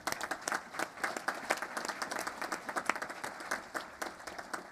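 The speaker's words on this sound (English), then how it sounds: "Let's give a big round of applause for our Marine Corps Recruit Depot Color Guard and the Marine Band San Diego." Steady audience applause at a Navy ship christening ceremony for the USNS Robert E. Simanek (ESB-7), honoring a Marine Corps color guard and Marine band; dense, continuous clapping from a seated crowd at moderate distance, with no talk over it.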